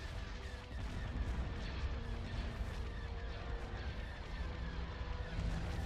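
Starship batteries firing in a Star Wars space battle, a faint, continuous wash of booming cannon blasts and rumbling artillery, distant and muffled rather than sharp.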